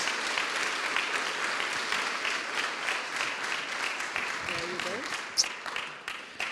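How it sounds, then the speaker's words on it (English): Warm audience applause for Thierry Loriot fills the Kunsthal Rotterdam at a Viktor&Rolf masterclass. The dense clapping holds steady, then thins and fades toward the end, with a few stray claps and a brief voice under the tail. "So I'll ask if you can give a warm applause to Thierry Loriot"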